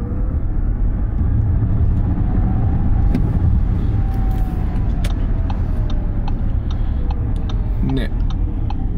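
An Audi e-tron electric car accelerates at full throttle, a steady broadband road and motor roar filling the cabin with a faint rising electric whine, while occupants speak briefly.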